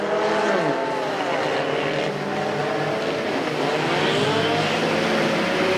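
Mini stock race cars roaring around a figure 8 track at a night speedway event, engines droning loud and continuous with passing pitch sweeps as cars rev and go by.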